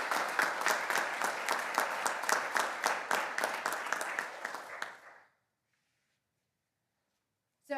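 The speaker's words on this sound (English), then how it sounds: "So I'm going to ask you to give them a round of applause." Applause from an audience at a police department swearing-in ceremony, a steady run of many hands clapping that stops abruptly, followed by a few seconds of silence.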